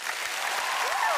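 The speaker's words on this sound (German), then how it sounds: "Dein Applaus." Audience applause at a televised children's talent show after a young soprano's performance, a dense steady wash of clapping from a large crowd with a faint rising whistle near the end.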